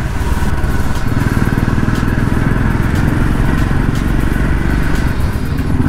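A motorcycle with a failed clutch, ridden on a mountain road in Uttarakhand, throbs steadily and loudly at close range, its engine chugging evenly throughout with no voices.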